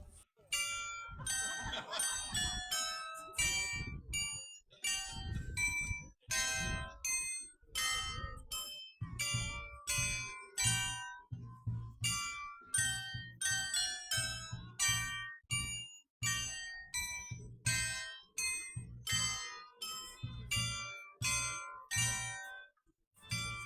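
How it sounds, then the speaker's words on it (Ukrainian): Church bells in Gütersloh, Germany, play a tune during a city anniversary celebration, in a steady sequence of clear, resonant strikes, each note decaying before the next, with faint voices in the background. "Послухаємо музику"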